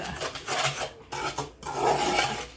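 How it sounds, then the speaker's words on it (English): Oil and sugar are stirred together in a mixing bowl for egg- and milk-free banana bread, giving a few close, gritty scraping strokes of a utensil against the bowl in an uneven rhythm, with no voices. "I like to mix the oil and the sugar around a little bit first"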